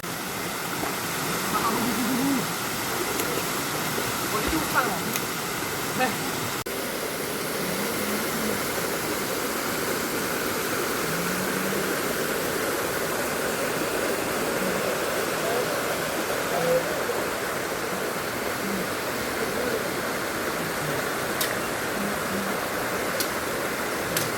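Kalikkavu waterfall in Kerala roars as a continuous broadband rush of falling water, steady and even for the whole stretch, with faint voices now and then beneath it.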